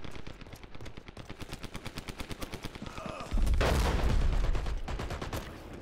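A tank-mounted gun fires in the online shooter Dirty Bomb: a rapid, steady stream of loud automatic shots, then a heavier sustained blast of fire near the end.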